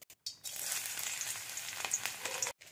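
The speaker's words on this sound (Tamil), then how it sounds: "ஆயில் நல்லா ஹீட் ஆன பிறகு கடுகு, கடுகு நல்லா பொரிஞ்ச பிறகு பொடியா சாப் பண்ண பூண்டு 2 பல்" Mustard seeds and finely chopped garlic fry in hot oil with a faint, steady hiss and crackle. The sizzle starts after a brief pause and cuts off sharply near the end.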